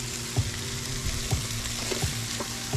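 Chicken sizzling on an outdoor grill, a constant crackling hiss with scattered pops and a few sharp clicks of handling, close and fairly loud with no talking.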